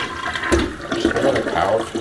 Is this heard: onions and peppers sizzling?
no